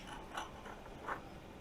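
A zipper being pulled closed on a heavy drone carrying bag for a DJI Mavic 3, two short raspy zips close by over a low steady background.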